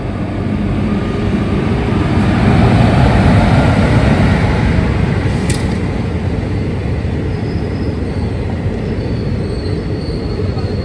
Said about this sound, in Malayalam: ആലപ്പുഴ സൂപ്പർ ഫാസ്റ്റ് എക്സ്പ്രസ് ആണ് ദേ ചേർത്തലയിലേക്ക് എത്തിച്ചേർന്നിരിക്കുന്നത്